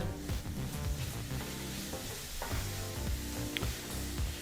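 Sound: stirring garam masala and turmeric into frying capsicum rice masala

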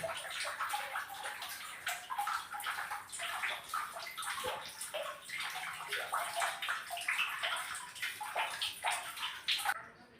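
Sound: water dripping in cave

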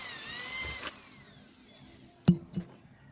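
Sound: electric drill drilling holes

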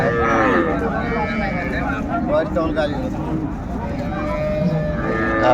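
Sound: cows at Raniganj cattle market

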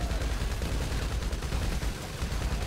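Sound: gunfire in video game GTA V Online

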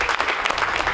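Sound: applause from deputies outside hospital

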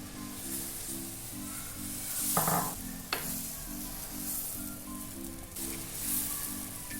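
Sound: oats dosa batter sizzling as it is spread on hot pan

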